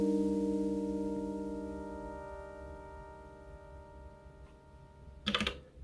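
A dry lofi chord from an Elektron Digitone synthesizer without reverb or delay, a sustained bright tone that fades gradually and is followed by a brief sharp click near the end, with no talking.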